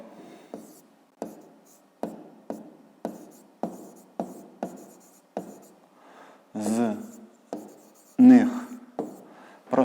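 A pen or pencil taps and scratches across notebook paper in a steady series of short strokes, close and fairly clear, with a voice speaking briefly near the end.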